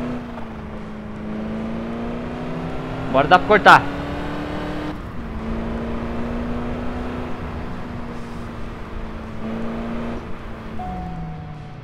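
A car engine drones steadily in Crash Time 5, holding a constant hum with a brief burst of sharp screechy noise early on, while someone talks over it.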